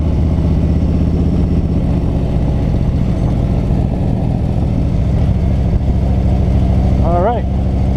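A Harley touring motorcycle rumbles steadily on an evening road ride after work, its low engine drone continuous and close under constant wind roar, with a short rising rev near the end.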